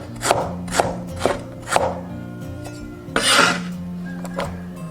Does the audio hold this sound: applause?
no